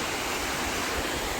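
Water pours from a dam spillway into a channel near a village in Gujar Khan, a steady, dense rush that holds at an even level without pause and with no voices.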